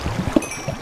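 Water placed in the video game Minecraft, a brief soft splash and slosh, near and short.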